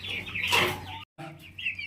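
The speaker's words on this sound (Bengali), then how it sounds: "একটা সুন্দর একটা ডাবর মাদি কবুতর" Pigeons in a farm pigeon loft give brief close calls and chirps, with short gaps of near silence between them.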